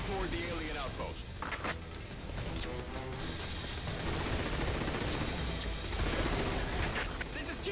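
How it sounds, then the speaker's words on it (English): In the video game Earth Defense Force 5, alien cannons fire in dense, continuous barrages of booming shots and crashes, loud and chaotic, with combat voices mixed in. "We're being attacked by the cannons!"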